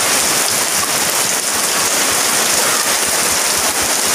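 Heavy rain pours down loud and close in a flooding downpour, a dense, steady roar of water on surfaces with no pauses and no voices.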